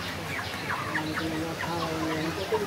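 Chickens on a large poultry farm cluck and chatter, several birds overlapping in a busy, moderately loud flock with soft background noise.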